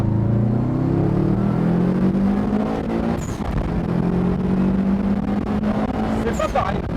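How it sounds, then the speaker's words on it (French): A Subaru Impreza flat four-cylinder engine revs and holds a rough, throbbing idle-to-midrange drone, loud and close, with pitch rising and settling across several seconds and faint background voices. "fais-nous juste un peu écouter ce 4 cylindres à plat de chez Subaru"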